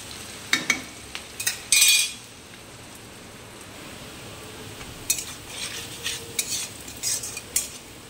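Onions fry in a pan until reddish, a quiet steady sizzle punctuated by bursts of spatula scraping and clinks against the metal.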